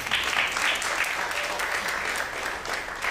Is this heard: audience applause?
yes